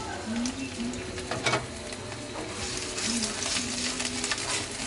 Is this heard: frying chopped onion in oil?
yes